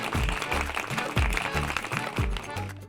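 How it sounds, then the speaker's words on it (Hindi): Applause at a competition ceremony in a TV drama scene, lively clapping mixed with pulsing, booming low thuds of music beating in a regular rhythm. "जोरदार तालियां।"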